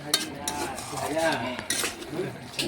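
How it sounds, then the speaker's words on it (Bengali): Chicken and potatoes stirred in a kadai to cook off the water make close, irregular scrapes and clinks of a spoon against metal, with a faint sizzle underneath. "এটা এইভাবে নাড়াচাড়া করতে করতে কড়ার মধ্যে আমি জলটা শুকিয়ে নেব"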